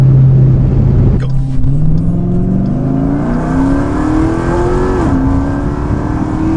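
A cammed Jeep SRT engine pulls hard from inside the cabin, its loud rumbling roar climbing steadily in pitch through a gear change, close and continuous.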